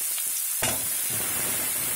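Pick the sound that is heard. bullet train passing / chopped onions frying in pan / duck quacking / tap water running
chopped onions frying in pan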